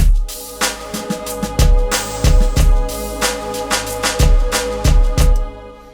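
A punchy electronic beat made in Logic Pro X with a booming kick and sharp claps under a bright synth chord pad, steady and loud for several bars.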